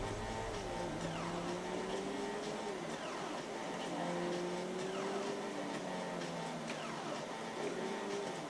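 A car drives in GTA V with a low, steady engine hum and repeated gear-shift whines rising and falling, quiet and without talk.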